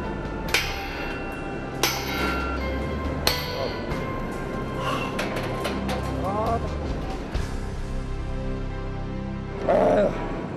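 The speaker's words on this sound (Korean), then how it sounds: "얼마나 고된 작업인지 이 망치질 앞엔 젊음도 소용없다." Heavy hammer blows ring out during tower crane climbing work at a high-rise construction site: loud metallic clangs spaced roughly a second apart over steady machinery rumble, with a brief voice near the end.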